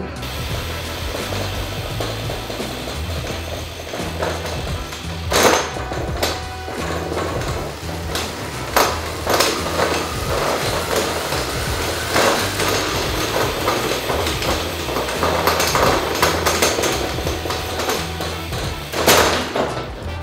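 A riderless bicycle spins on shaking rollers, giving a steady mechanical whir with rattling and several sharp knocks and clatters, close and fairly loud, with no talking.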